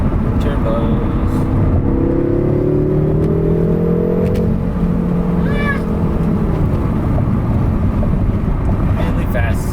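BMW M6 twin-turbo engine fitted with a BMS intake revs up, its tone rising and falling in a loud, sustained drone under heavy wind buffeting, with a brief higher whine midway.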